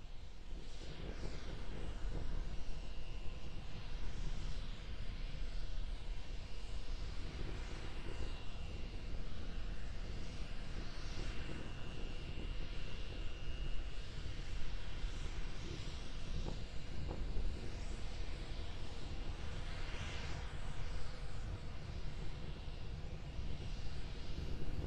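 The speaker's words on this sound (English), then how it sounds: "We're still being powered by the single Raptor engine." A SpaceX Starship hovering about 10 kilometres up on its single Raptor rocket engine, heard as a steady, dense, broadband roar that holds constant throughout, heard from a distance.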